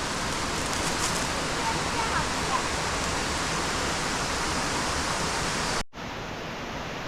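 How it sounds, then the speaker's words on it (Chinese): Xuejian waterfall in Tai'an, Miaoli, roars as a steady, loud, broadband rush of falling water close by, continuous throughout with a brief cut near the end. "雪见瀑布到了，活水源秘境"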